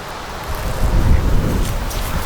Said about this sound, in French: il y a tellement de vent dehors